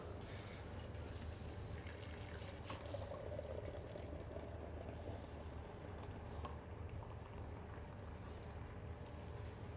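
Soy milk boils in a wok over a fire, giving a steady, faint bubbling and hissing with a low rumble underneath and no pauses.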